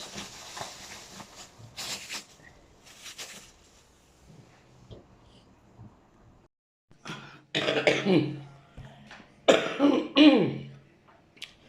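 Several harsh coughs and throat clearings come in bursts, with quieter stretches and faint background noise between them.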